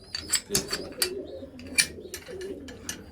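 Pigeons cooing in a pigeon loft, several soft throaty coos repeating irregularly at close range, mixed with faint rustles and brief chirps.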